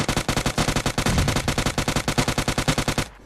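Rapid automatic gunfire in a video game shootout, a long burst of evenly spaced loud shots at a fast steady rhythm with no talk, cutting off abruptly at the end.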